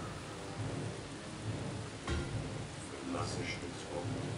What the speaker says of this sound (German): Oh, schöner Regen heute.